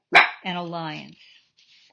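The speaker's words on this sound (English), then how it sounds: "And what you hear is my Yorkie right here with me, not exactly exhibiting friendship to the dog that she sees out the window." An indoor Yorkshire terrier barks at a dog outside the window: one sharp close bark, then a drawn-out, whining, growly yelp that fades out, with a voice speaking briefly just before.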